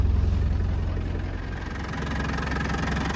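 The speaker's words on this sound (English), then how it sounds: "And the engine's running nice and smooth." A 1993 Land Rover Defender 90 with the 200Tdi diesel engine idles smoothly, a steady low rumble with even, rhythmic diesel clatter and no other sounds.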